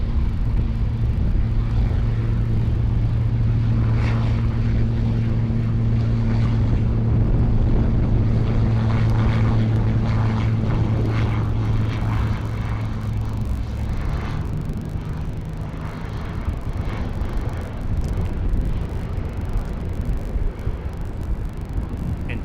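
A Pilatus PC-12 turboprop passes at SJU airport in Puerto Rico, a loud steady engine drone with a sustained low hum, mixed with wind buffeting against the microphone.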